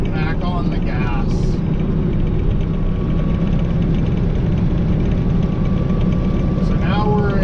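A loaded semi truck with an 18-speed Eaton Fuller transmission drones steadily at highway speed while shifting, its engine rumbling loud and continuous; a brief lull in tone hints at letting off and getting back on the throttle.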